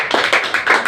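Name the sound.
clapping applause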